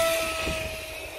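A small electric motor on an X-Plus hotliner RC racing airplane running a 6S battery whines steadily at a high, constant pitch at full power, droning on without a break over faint wind noise.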